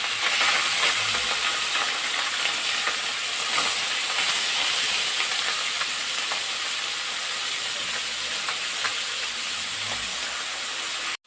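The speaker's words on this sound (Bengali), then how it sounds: "এই মাছগুলো দিয়ে দিচ্ছি একসাথে কিন্তু ভাজা লাগে" Small fish fry in plenty of hot oil in a wok, giving a loud, steady, unbroken sizzle and hiss throughout with no talking.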